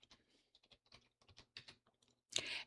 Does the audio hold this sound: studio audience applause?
no